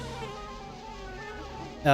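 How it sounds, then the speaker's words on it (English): Insect-like buzzing of a bee swarm in a platformer video game, a steady droning hum under game music, followed by a louder burst of sound at the end. "Whoops, I'm gonna get hit by bees."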